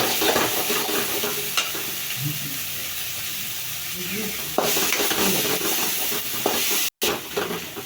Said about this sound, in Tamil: நன்றாக வெந்ததும் கடாயில் அடிப்பிடிக்காத அளவு கிளறி கொண்டே இருக்க வேண்டும்